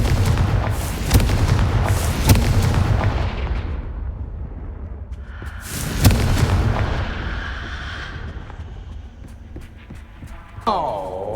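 Confringo fire spell blasts in the Hogwarts Legacy video game: a series of loud, booming explosive bursts with rumbling tails, two early strong hits followed by another big blast midway, over a low background hum.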